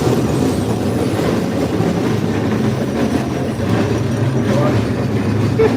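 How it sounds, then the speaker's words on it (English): A train rolls past close by, a loud continuous rumble with clickety-clack of wheels on rail and some squeal, steady throughout without talk. "Let me let this train go by"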